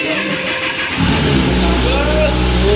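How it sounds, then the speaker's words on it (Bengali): A Kawasaki ZX-10R 1000cc sport motorcycle is started nearby: a brief cranking moment, then the engine catches and settles into a loud, steady rumble. "গাড়িটা অন করে গাড়িটা স্টার্ট হচ্ছে"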